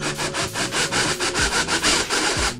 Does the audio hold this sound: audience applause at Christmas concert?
no